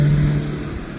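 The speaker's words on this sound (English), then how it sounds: "You can see the vehicles driving" Vehicles driving across a highway construction site on a Montego Bay perimeter road, a brief steady engine rumble with a low hum, fairly loud and close.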